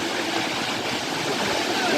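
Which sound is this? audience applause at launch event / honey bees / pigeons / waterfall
waterfall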